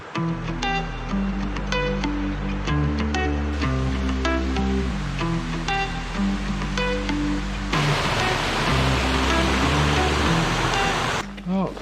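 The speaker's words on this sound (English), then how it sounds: "we've got a nice wet river crossing" A river crossing on a wet morning walk along river flats: steady rushing water fills the scene, rising to a loud, broad wash in the latter part, with music-like tones layered over it.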